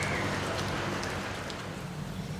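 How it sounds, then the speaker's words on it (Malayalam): A sudden rain shower falls outdoors as an even, continuous hiss of drops. It is moderately loud and steady with no other sounds. "പെട്ടെന്നാണ് മഴ വന്നത്"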